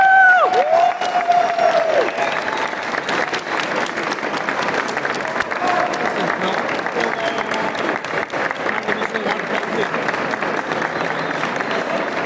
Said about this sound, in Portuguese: Recebam, por favor, com uma grande salva de palmas e com muito carinho